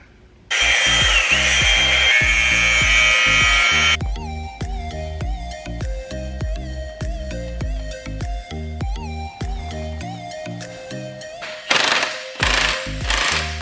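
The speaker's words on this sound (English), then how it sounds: "so we're gonna be using the chain cutter." A loud, rapid mechanical grinding burst of a chain cutter cutting a 2005 Honda CBR1000RR motorcycle chain, then steady rhythmic clanking beats with music-like tones, ending with a brief harsh burst.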